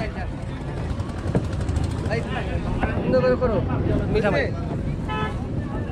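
A trawler boat engine rumbles steadily and low on the water, with people talking over it and occasional knocks and clatter nearby.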